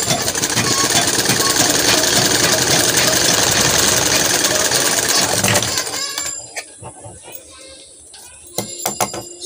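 A sewing machine stitches a pant pocket seam in a steady loud whirring run for about six seconds, then stops, leaving a few faint clicks and handling sounds.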